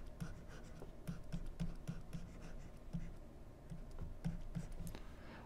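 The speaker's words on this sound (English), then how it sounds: "I'm going to write that down" Pen or stylus scratching and tapping across a screen while marking a gold price line chart, short strokes and taps in an irregular rhythm, close and fairly quiet with no talk.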